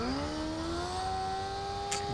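A motorcycle engine in the video game Fortnite whines steadily with a rising pitch as it accelerates, loud and close for about two seconds with no talking.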